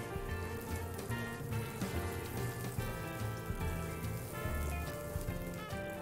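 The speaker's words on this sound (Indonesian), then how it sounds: "Kita tumis bawang putih dan bawang merahnya sampai berwarna agak kecoklatan." Garlic and shallots sautéing in a pan give a dense, steady crackling sizzle, close and even in loudness throughout, like light rain on a surface, with no voices.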